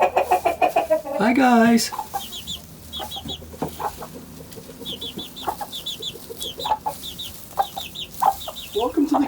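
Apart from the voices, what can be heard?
chickens clucking in a coop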